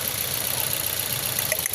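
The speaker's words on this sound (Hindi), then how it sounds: "ये देखो अब क्या कर रहा है इंजन, अब वाइब्रेट कर रहा है।" A misfiring car engine idles and vibrates after a spark plug and ignition coil change, with a steady, close, rough hum that shudders unevenly and has a brief knock near the end.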